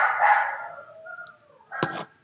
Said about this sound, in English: your dogs are barking